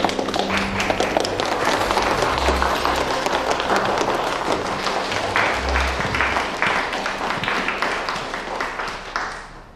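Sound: audience applause welcoming a speaker on stage

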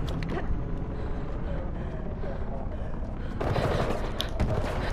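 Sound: enemy gunner firing in video game Mirror's Edge Catalyst

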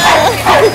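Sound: many dogs barking

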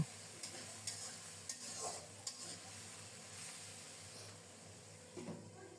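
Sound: stirring and frying spices with turmeric in a pan

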